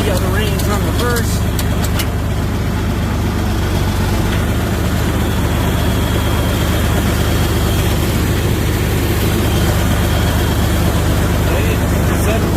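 A 1972 John Deere 4320 tractor engine runs loud and steady with a deep low rumble while being shifted into a reverse range, close by, with someone talking over it.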